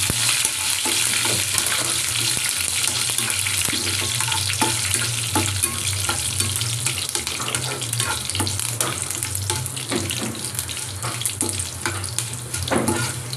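Okra curry with plenty of curry leaves is stirred in a frying pan, giving a loud, continuous sizzle with a low steady hum beneath and frequent scraping strokes of the spoon, close up and without voices.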